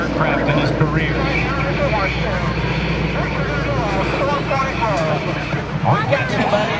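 Aerobatic airplane performing a four-point roll at the 2010 Blue Angels Homecoming Airshow, a steady loud engine drone with crowd noise and an announcer talking over it throughout.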